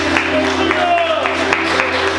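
Applause from a church congregation at an evening service, a loud, steady wash of clapping and crowd noise over a sustained musical backing, with voices heard faintly.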